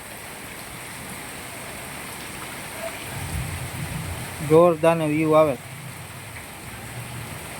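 Heavy monsoon rain falls in Gujarat as a steady, even hiss that continues throughout, with a short burst of a voice near the middle.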